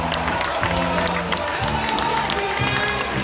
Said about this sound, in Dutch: Ook dat doen we nog even met een applaus, dames en heren